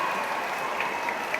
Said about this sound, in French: C'est la dernière occasion que vous avez d'applaudir la flamme à Meisenthal.